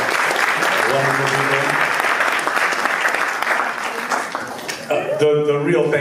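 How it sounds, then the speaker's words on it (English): Guests at an engagement party break into warm, steady applause that swells and then tapers, while a speaker talks over the clapping before it ends. "A little bit of a round of applause for these wonderful"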